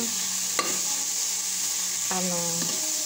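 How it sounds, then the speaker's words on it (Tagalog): Flaked fried galunggong fish cooks with winged beans, string beans and okra in a pan, giving a constant close hiss and sizzle, with two short scraping stirs and a faint clink, and no talking. "Tapos ilalagay ko na rin tong aking isda."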